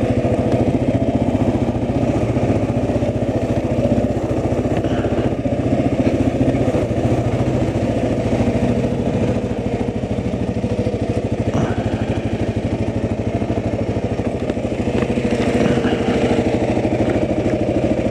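Motorcycle engine running steadily on a short test ride along open roads, a continuous mid-pitched drone close to the microphone with wind rumble and no break for the full length.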